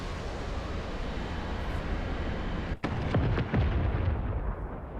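A loud, rumbling War Thunder explosion of an aircraft bursts over constant low roar, followed by crackling debris and a few sharp pops trailing off.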